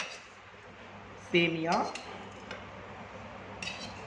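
Clatter of a utensil against a metal pot as vermicelli goes into boiling milk on the stove, a brief bright burst of scraping and clinking in the middle, then quieter stirring sounds.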